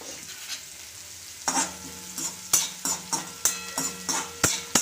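Chopped spring onion frying in a pan with turmeric, a soft sizzle under repeated sharp scrapes and taps of a spoon stirring at a steady rhythm, close by.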